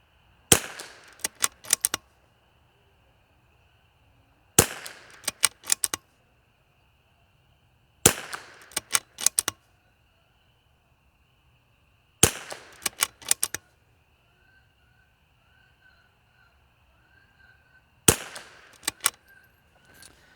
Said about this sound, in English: We're definitely shooting a 10-shot group there.